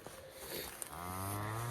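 An old cow in a herd of calving cattle lets out one long, close moo that swells into a strong, deep bellow and grows louder toward the end, with no speech around it.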